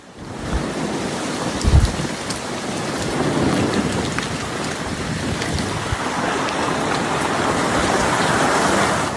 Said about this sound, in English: Storm Claudia brought heavy rain and wind to the United Kingdom and Ireland on Friday